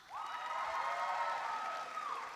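Applause from the audience at the Hudson's Bay High School 2023 graduation ceremony, a steady wash of clapping from a large crowd, sustained for a couple of seconds at moderate loudness.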